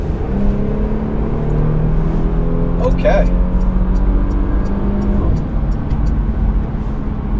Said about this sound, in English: we're getting on the highway, so let's get a little acceleration pulling